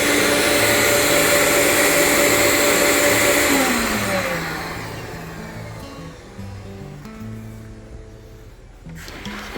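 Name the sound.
CNC vacuum for Onefinity running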